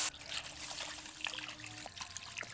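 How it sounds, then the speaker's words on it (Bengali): Water poured into a pot of potatoes sautéed with spices, a soft steady trickle and splash heard close up with no one talking. "এবার আলুগুলো সেদ্ধ হওয়ার জন্য জল দেব।"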